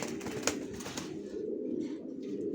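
Racer pigeon babies of original racer stock, down-shape quality, cooing in a loft, a steady low murmur of coos with a few soft chirps, near and moderately loud, no talk.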